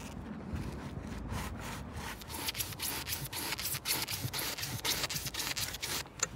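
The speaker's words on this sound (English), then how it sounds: "What I'm hoping I'm going to be able to do now is slice a nice even slice off the top of it." A blade slices through foam clamped around an old broom handle while under-carpet mats are made for a Mercedes R107, giving a steady run of close, rhythmic rasping strokes.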